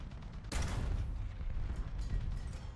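A sudden burst of video game gunfire in War Thunder, followed by a sustained rumbling barrage of shots and booms, fairly loud and continuous.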